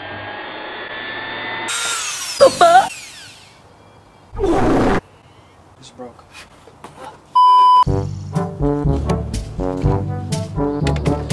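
A saw cuts into the plastic rear bumper of a Toyota GT86-type sports car. Harsh bursts of cutting and a few mechanical tones come up close, and a voice talks over the later stretch.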